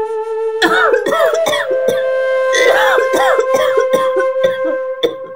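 A person coughing in a home setting, several harsh bursts in quick succession, close and loud, over a steady musical tone.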